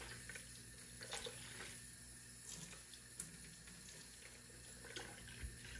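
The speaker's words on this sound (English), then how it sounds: "I'm going to rinse down the sides of the pitcher to catch the big stuff." Tap water runs steadily and splashes as it rinses down the inside walls of a 64-ounce blender pitcher while cat food is being made at home. The stream is close and continuous, with occasional sloshes and no talking.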